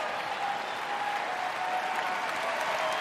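A crowd applauds steadily at a Big Ten college wrestling match in an arena, Iowa versus Wisconsin, a dense, even wash of clapping from many hands throughout, with no talk.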